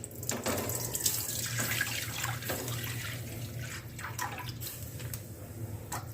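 Milk poured steadily into a pan, about two kilos from packets, for a milk cake recipe; a continuous close liquid splashing and trickling with no talk.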